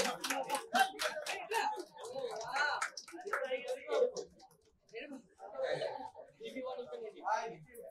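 An audience claps to celebrate a birthday cake cutting, the hand claps scattered and partly buried under ongoing talk.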